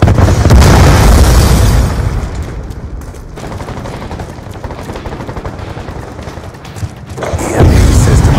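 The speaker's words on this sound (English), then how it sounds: "Friendly Hellstorm missile inbound." Hellstorm missile strikes in the Black Ops 2 video game, loud booming explosions with crackling gunfire, a heavy blast at the start, dense gunfire through the middle, and another loud burst near the end.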